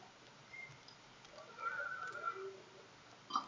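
A horse in the video game Red Dead Redemption 2 gives a faint, fairly distant whinny lasting about a second, followed by a short sharp snort or click, with no talk over it.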